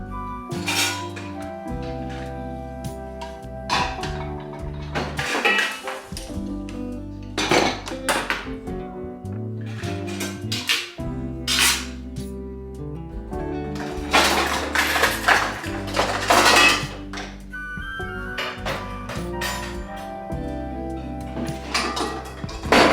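Kitchen drawers emptied and refilled with cutlery and dishes: continuous clinks, clatters and knocks of metal utensils and crockery, with a few sharper bursts, close and busy without talk.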